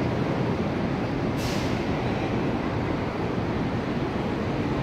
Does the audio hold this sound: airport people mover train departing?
yes